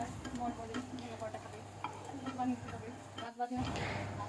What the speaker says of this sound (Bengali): দেখতে পাচ্ছেন আমার মাংস ভাজা হয়ে গেল